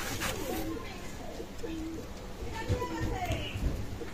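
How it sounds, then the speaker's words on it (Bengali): A pair of Teddy pigeons of an Oman bloodline cooing softly at a loft, low throaty coos repeating under someone talking nearby. "এক জোড়া সাকি টেডি কবুতর দেখাচ্ছি, চমৎকার ব্লাড লাইনের কবুতর।"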